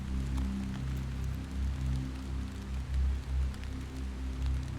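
Rain falls steadily in the survival horror game Hollowbody, a soft continuous patter with a low rumbling bed, fairly quiet and without voices.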